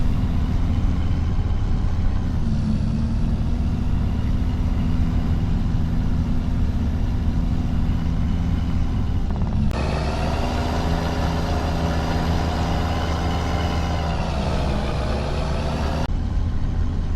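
A heavy truck in a trucking simulation game drives steadily with a loud, continuous low engine drone, its pitch shifting as gears change partway through.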